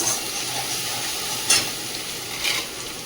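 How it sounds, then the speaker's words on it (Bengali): Ginger, garlic and onion fry in a pan, a steady close sizzle with two louder bursts of hiss and stirring scrapes, and no one speaking. "আদা রসুন পেঁয়াজ সব কষিয়ে নিলাম"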